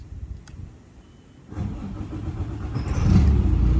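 A 2007 Freightliner M2 crane truck's diesel engine starts by remote: after a quiet second and a half it catches and then settles into a rising, rumbling idle that grows louder toward the end.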